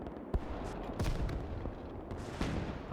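120 mm heavy mortar shells landing in the video game Gates of Hell, a rumbling battlefield with several dull booming impacts and scattered distant gunfire rolling under a constant low roar.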